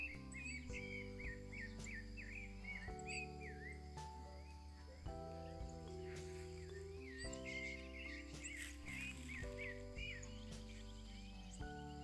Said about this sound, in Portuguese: A sabiá cantando de fundo.